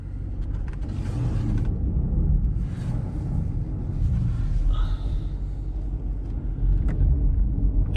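A Chevrolet C8 Corvette creeps slowly into a garage on a snowy day, its engine rumbling low and close with uneven surges and a brief mechanical whine partway through.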